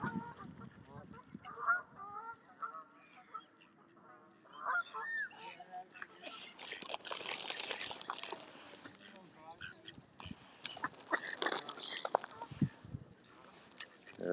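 Many ducks, geese and swans on a park lake along the Westport Lake walk, honking and quacking in a busy, continuous chorus close by, with people talking over the birds throughout.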